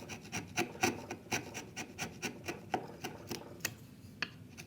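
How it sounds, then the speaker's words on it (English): A chisel pares wood fibers from an inside corner while fitting a kit-built router plane, giving a series of short, close rasping cuts in an uneven rhythm, each stroke a brief scrape, with no talking. "I'm going to go back with my chisel."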